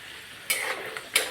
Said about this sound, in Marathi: थोडे शेंगदाणे घेतलेले अगोदर आपण फ्राय करून घेऊयात ते